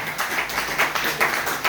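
Brief burst of audience clapping at a seminar held by a company team, steady and fairly loud with slight swells, no voices over it.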